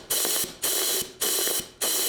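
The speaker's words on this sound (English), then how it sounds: "here's some more air duster" An air duster fires in four bursts of loud hissing spray, each about half a second long and separated by short gaps, with a faint clicking heard during the bursts, close to the listener.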